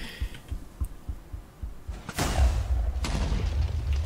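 A TNT firework explodes in a Minecraft-style survival game: soft rhythmic thumps lead up to a loud, close boom that crackles and rumbles, then a second burst follows about a second later.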